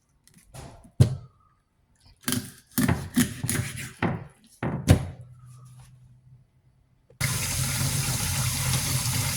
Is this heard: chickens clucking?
no